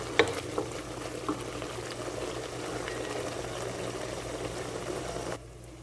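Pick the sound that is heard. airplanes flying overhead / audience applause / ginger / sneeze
ginger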